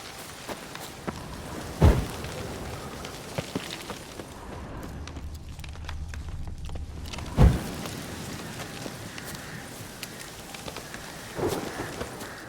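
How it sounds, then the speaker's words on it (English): Steady rain hisses throughout a stormy scene in The Witcher 3, with two sharp thunder cracks and a later fainter rumble rolling over the downpour. "A storm, damn it."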